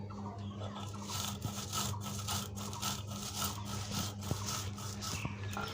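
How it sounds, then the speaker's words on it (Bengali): Panch phoron spices are ground on a stone for mango pickle, a continuous gritty rubbing and scraping in quick back-and-forth strokes, close and moderately loud, with a steady low hum underneath. "পাঁচফোড়ন বাটবো"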